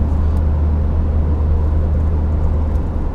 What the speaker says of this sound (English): We're going up a nice incline now.